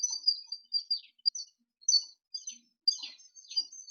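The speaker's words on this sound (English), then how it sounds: "It's nice bird sound." Several birds chirp and tweet in bright, high bursts, fairly faint and distant, with short gaps between the calls and no talk over them.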